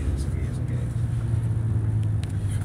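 A car engine pulls up a hill, giving a steady low rumble that holds throughout, close and fairly loud, under occasional speech.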